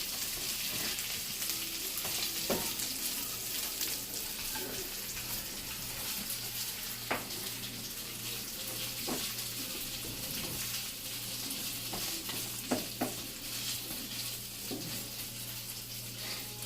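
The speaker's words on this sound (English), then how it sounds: "There it is frying up in the pan." Steady, close sizzling of meat frying in a pan, continuous throughout with occasional sharper crackles and pops and faint clinks.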